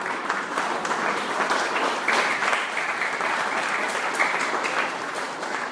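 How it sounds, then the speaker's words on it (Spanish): Applause from a congregation during a church service honoring Christ, steady and sustained clapping from many hands filling the room throughout, with no break. "Le dan un aplauso a Cristo"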